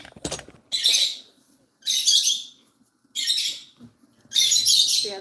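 A pet lovebird gives four loud, harsh squawking chirps in a regular rhythm, each burst about half a second long and close by, with short quiet gaps between them.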